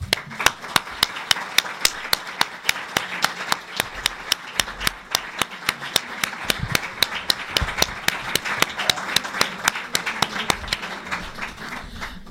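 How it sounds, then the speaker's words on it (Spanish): Slow, steady rhythmic clapping at a lecture event honoring Didier Fassin, sharp evenly spaced claps ringing out one after another, fairly close and moderately loud, with faint room murmur beneath. "ahora voy a pedir un aplauso para Didier Fassin"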